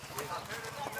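Horse hooves clip-clopping in a VR horse-riding game, a steady rhythmic patter running through the second under ongoing talk.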